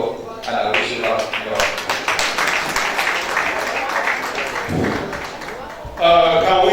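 An audience claps at an investiture ceremony, a dense, steady ripple of hands in a hall that goes on for several seconds, followed by a voice on a loudspeaker.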